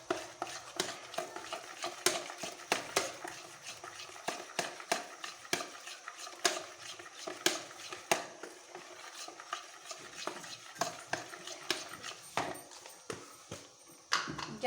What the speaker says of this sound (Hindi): इसके साथ चाट मसाला ½ टेबलस्पून ऐड करूँगी और इसको मिक्स कर लेंगे